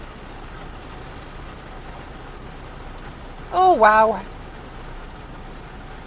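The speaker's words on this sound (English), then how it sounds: "It's raining like the sky is open." Heavy rain pours down outdoors during a walk with a dog, a steady hiss of falling water throughout, briefly interrupted by a short spoken exclamation in the middle.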